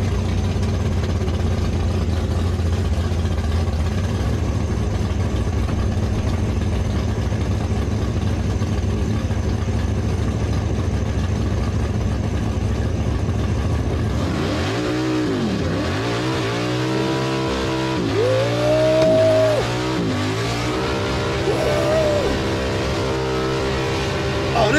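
Cars doing burnouts at the Summernats 34 Masters final, a sustained roar of engines with rising and falling revs and crowd noise, loud and continuous, with a voice talking over part of it.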